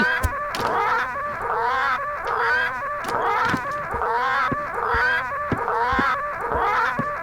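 Parrots in Return to Monkey Island squawking continuously: a dense, raucous chorus of repeated harsh calls in a steady rhythm, loud and close, with a few sharp clicks mixed in.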